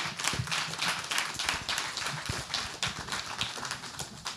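A conference audience at a gender equality event applauds speakers leaving the room, loose, close clapping with distinct individual claps, unevenly paced and tapering slightly, heard alone.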